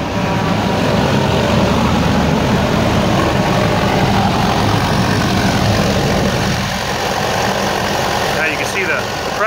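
A Duramax LLY diesel engine idles loudly and steadily up close, a dense low rumble with exhaust pressure hissing from a leaking flange, continuous throughout with no pauses.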